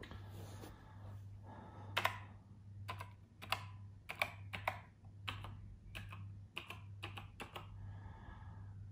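Keys clack on an old Apple Adjustable Keyboard with many keys that had stopped working, giving irregular single and clustered taps near the mic over a steady low electrical hum.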